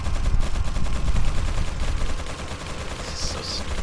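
Enemy gunfire in Resident Evil 4, a dense run of rapid shots crackling over a low rumbling game mix, steady and loud throughout with a brief higher tone near the end.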